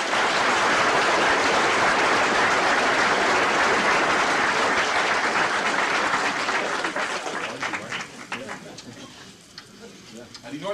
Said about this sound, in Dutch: Voor hun wil ik graag een applaus